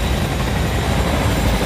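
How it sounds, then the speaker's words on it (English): Helicopter in the Fortnite video game, a steady, loud rotor and engine roar that fills the whole moment without any break or talk. "Let me get to the chopper."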